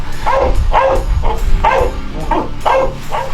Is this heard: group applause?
no